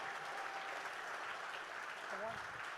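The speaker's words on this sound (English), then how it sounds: "how about a round of applause for these three gentlemen?" Gala audience applauding three inductees at the CHRHF 2025 induction: a quiet, distant patter of clapping that holds steady, with a voice briefly heard near the end.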